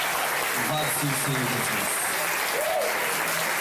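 Congregation applauding at a church camp service, a broad wash of clapping from many hands throughout, with a voice speaking over the applause.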